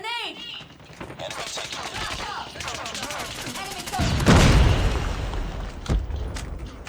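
A grenade blast bursts out in the mobile shooter Call of Duty Mobile, a loud broadband boom landing midway through dense, rapid automatic gunfire that rattles on before and after it.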